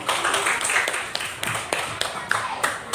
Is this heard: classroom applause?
yes